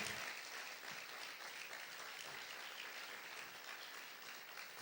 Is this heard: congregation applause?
yes